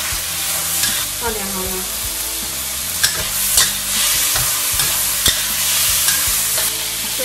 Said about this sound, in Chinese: 我们转大火，放入青红椒跟葱段